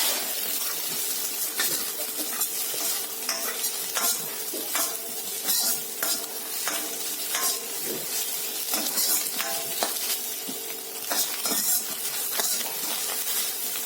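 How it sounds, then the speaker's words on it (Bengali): Three chopped green chillies fry in a pan for egg hakka noodles, giving a steady loud sizzle with frequent stirring scrapes and clinks throughout. "এবার আমি কাঁচা লঙ্কা দিলাম 3 পিস কুচিয়ে দিয়ে দিলাম। হালকা ভেজে নেব।"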